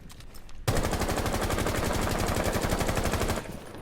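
A sustained burst of rapid automatic gunfire in Apex Legends lasts about three seconds, with evenly spaced shots that are loud and close and then stop suddenly.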